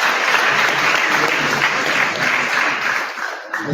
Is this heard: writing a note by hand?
no